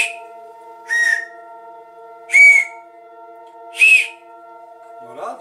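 Three short, bright toots from a hand-turned ash-wood train whistle sound one after another with pauses between them, over a faint steady hum, followed by a soft clatter.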